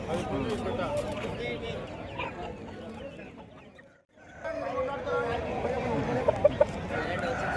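Roosters and hens at a Pebbair village market cluck and stir amid loud crowd chatter, with people talking near throughout and a short lull midway before the market din returns.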